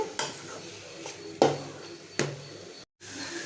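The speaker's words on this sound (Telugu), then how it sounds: "ఇందులో క్యాప్సికమ్ అయితే వేసుకుంటున్నాను వీటిని కూడా కొంచెంసేపు ఫ్రై చేసుకుందాం" Capsicum and other vegetables frying in a pan: a low sizzle broken by three or four sharp spatula scrapes against the pan, close by, with a brief silent gap near the end and no talk.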